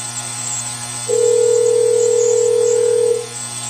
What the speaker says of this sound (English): So now it should ring for 20 seconds and then get hung up on.